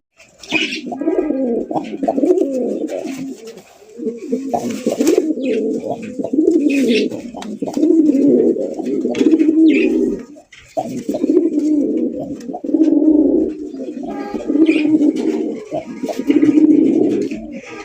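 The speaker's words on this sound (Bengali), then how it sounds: "এটা কিন্তু আমাদের দেশি বোম্বাই কবুতর" Domestic Bombay pigeons, a red pair, coo in a steady run of soft, throaty, rolling calls close by, overlapping almost continuously with a brief pause midway.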